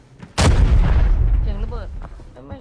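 In the mobile shooter game Arena Breakout, one sudden loud explosion booms up close and rumbles away over a couple of seconds while voices talk over its tail.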